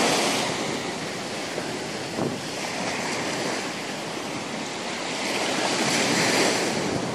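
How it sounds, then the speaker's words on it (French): Swell waves wash against the shore at Fréjus and Saint-Raphaël on the Mediterranean coast, a continuous loud broadband surf roar with gentle surges and no voices. "aujourd'hui il y a de la houle, on va pas trop s'approcher"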